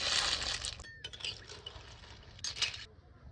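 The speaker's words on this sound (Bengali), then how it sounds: "এবার গেরি ঘুগলিগুলো দিয়ে দেবো।" Freshly gathered river snails drop into a pot of salted water with a quick clatter and splash, followed by light sloshing and a second splashy clatter near the end, close and fairly quiet.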